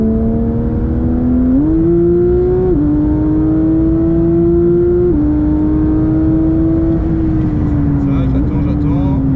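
A Porsche 911 GT3 992.1 accelerates around the Spa circuit, its engine droning loudly from inside the car and stepping up and down in pitch through gear changes and throttle shifts, with no break.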